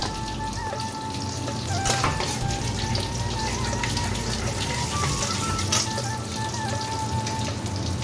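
Black cumin seeds sizzle in hot frying oil in a pan. The frying hiss is loud and steady for the whole eight seconds, with a few crackling pops and no break.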